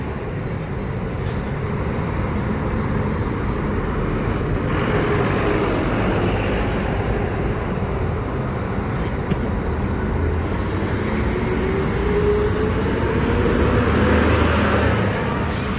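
Two Saritu buses pulling into the Belo Horizonte bus station on a holiday, their engines a steady, broad rumble that stays fairly loud and even throughout, with no talking.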